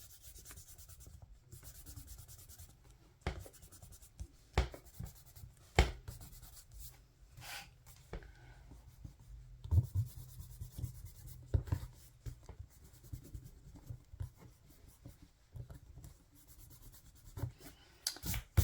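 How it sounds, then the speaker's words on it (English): An eraser rubs out pencil lines on a bullet journal page, producing quiet, close scratchy strokes in irregular bursts with brief pauses between passes and no voices. "I'm going to grab my eraser here and erase the pencil."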